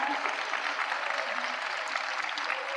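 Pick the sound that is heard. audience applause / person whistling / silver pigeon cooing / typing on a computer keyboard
audience applause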